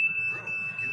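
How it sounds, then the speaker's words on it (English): A smoke detector, set off by smoke from a bong, sounds a steady high-pitched electronic alarm tone through the whole moment over a faint low room rumble, with no talking. "set off the smoke detectors."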